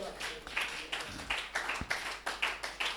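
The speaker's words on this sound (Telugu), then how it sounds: "కొట్టు చప్పట్లు గట్టిగా." Rhythmic clapping from an audience at a church sermon, sharp evenly spaced claps about three per second, moderately loud and close, with a faint voice underneath.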